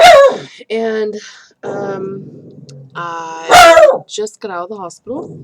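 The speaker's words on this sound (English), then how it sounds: "Excuse my dog in the background." A dog barks in the background of a home, with a few sharp, fairly loud barks mixed in among a person's speech.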